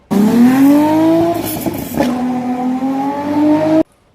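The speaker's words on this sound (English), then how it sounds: "Now, if you don't know what a VR6 is, this is one." A Volkswagen Golf VR6 engine revs up and holds a strong, steady, rising note for several seconds, loud and close, then cuts off abruptly, with no talk over it.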